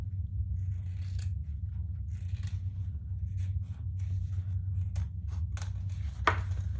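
Scissors cut through purple leather just outside a stitch line, giving a string of close, crisp snips over a low steady background hum.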